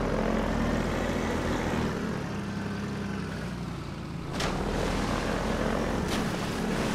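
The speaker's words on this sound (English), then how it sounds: "So the helicopter is around here somewhere." A helicopter flies overhead in the video game Half-Life 2, a loud, continuous rotor and engine roar that dips briefly midway and then swells again, with no talk over it.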